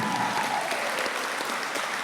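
A brief, steady patter of audience applause at a book launch, moderately loud and evenly sustained throughout.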